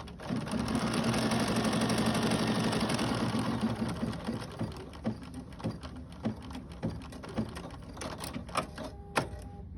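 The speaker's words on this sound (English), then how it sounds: "I'm going to allow the machine to stitch it down" An embroidery sewing machine stitches fabric in the hoop, first as a fast, steady whirring run and then as a series of separate, sharp stitch clacks.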